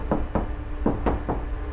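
Five sharp knocks on the undampened metal door panel of a car, irregularly spaced, each with a brief clanging ring, close and fairly loud.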